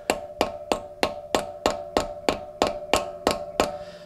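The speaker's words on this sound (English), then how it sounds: "I had to hammer this thing on." A hammer drives a socket onto a stripped car lug nut in about a dozen evenly spaced, sharp metallic blows, loud and close with no talking.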